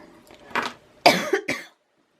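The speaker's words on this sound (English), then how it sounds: "I still got this lingering dry cough from the flu" A few dry coughs from a person recovering from flu, close to the mic, a short one followed by a pair of harsher bursts, then silence.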